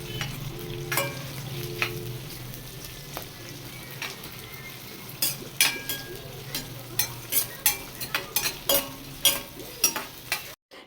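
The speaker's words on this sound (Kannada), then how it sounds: "ಇದಿಷ್ಟನ್ನು ಇವಾಗ ಫ್ರೈ ಮಾಡ್ಕೋಬೇಕು." Onion and curry leaves fry in a pan with a steady background sizzle, joined midway by a run of sharp, rhythmic scrapes and taps from a spatula stirring against the pan, close and moderately loud.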